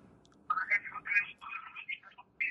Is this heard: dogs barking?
no